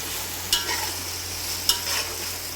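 Chopped tomatoes fry in a pan for chicken pulao, giving a steady, close sizzle broken by a few sharp scraping clicks as they are stirred; no one speaks.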